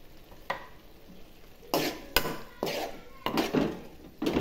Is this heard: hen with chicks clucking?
no